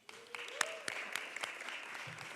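Audience applause breaks out at a synagogue's annual meeting, a short burst of scattered clapping across the room at moderate level, with a faint voice briefly heard underneath.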